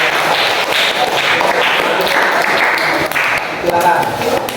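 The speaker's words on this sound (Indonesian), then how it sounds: "Tepuk tangan untuk semuanya" Applause rings out from an audience after a classroom presentation, a dense continuous clatter of clapping at close range that stays strong and steady to the end.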